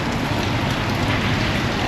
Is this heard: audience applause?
no